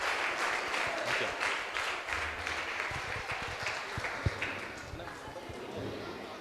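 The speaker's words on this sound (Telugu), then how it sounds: "ఒకసారి అందరికీ చప్పట్లు" An audience at a group Bible quiz during a one-day youth retreat claps steadily for everyone, a dense sustained round of applause filling the room for several seconds, with a sharp thump partway through and voices murmuring underneath.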